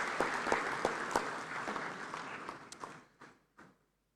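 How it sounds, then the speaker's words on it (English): Applause from an audience in the Parliament of Ghana hall: dense, sustained clapping that thins after a few seconds into a handful of scattered, separate claps before fading out. "another round of applause, please."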